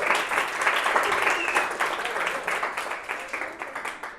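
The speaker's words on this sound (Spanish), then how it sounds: "Un aplauso, por favor." An audience at a youth camp talk gives a short burst of dense applause that tapers slightly toward the end, with no voice over it.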